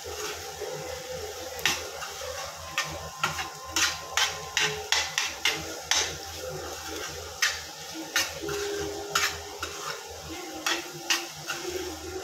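Egg masala mixture with garam masala and cumin powder being stirred in a pan: a spoon knocks and scrapes against the metal in a run of sharp, irregular taps over a low background hum.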